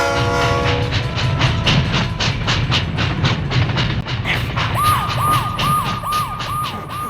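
An express train for Jammu stands at a railway platform. There is steady loud rumbling with rhythmic wheel clatter, and a repeating warbling siren-like tone joins in partway through.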